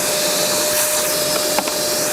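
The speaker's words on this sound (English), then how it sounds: "We're going to bung it on full whack and we're going to see if we can suck these up." A Makita 40v cordless vacuum runs at full power, a loud, steady whooshing roar, with faint clicks of sheared bolt heads being sucked up near the end.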